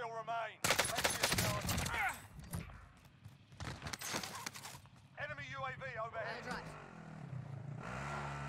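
Rapid bursts of video game gunfire crackle through a stadium match, dense volleys early on and scattered shots later, heard under a player's running commentary.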